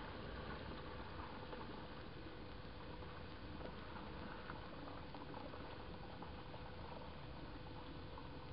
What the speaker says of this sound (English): I'm going to put the wort into the carboy that I've already sanitized